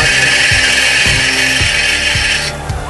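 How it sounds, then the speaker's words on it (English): A Centroid Acorn CNC lathe spindle winds up to higher RPM under constant surface speed while threading, a steady loud machine whine and hum with faint periodic rumbles, easing slightly near the end. "You can hear the RPMs increasing."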